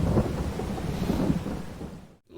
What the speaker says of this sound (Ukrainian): І гримить гарно.